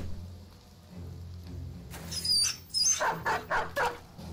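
Dogs in the Battle Brothers video game bark in a quick run of four or five sharp, close yaps after a brief high squeal, over a low game background hum.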